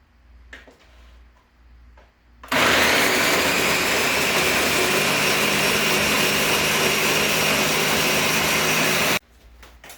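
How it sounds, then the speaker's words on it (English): Ninja blender whirring at full power as it mixes a dairy-free, sugar-free orange creamsicle ice cream base, a loud steady motor roar that starts abruptly, runs for several seconds and cuts off sharply. "This is also a Ninja blender, which is fantastic"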